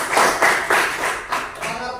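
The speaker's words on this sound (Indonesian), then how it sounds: "Kasih tepuk tangan" Classroom of students clapping in several loose bursts after a teacher's request, bright hand claps with voices mixed in, a few seconds of uneven group applause in a school lesson.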